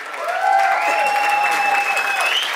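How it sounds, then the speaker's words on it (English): Audience applause for a guest taking center stage at a live show, loud sustained clapping from a crowd with a tonal musical or voiced sound riding over it. "Ladies and gentlemen, give him a big round of applause, sir."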